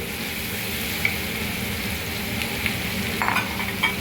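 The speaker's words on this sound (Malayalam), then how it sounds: "പിന്നെ നമുക്ക് ഈ ഉള്ളി ഇത് കുക്കറിലോട്ട് ഇട്ടാലും മതി. ഞാനിപ്പോൾ ഇതിനകത്തോട്ട് തന്നെ ഇടുക." Chopped onions sizzle steadily in a pan as egg biryani is prepared, with a few light clinks of a stirring spoon. The frying is close and continuous, and no one speaks.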